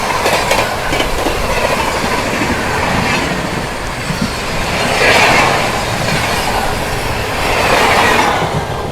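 The Barmer Howrah Superfast Express rushing past an Amrit Bharat Express at a crossing in heavy rain, loud continuous rumbling and clattering wheels with surging roars as the carriages go by, and no speech.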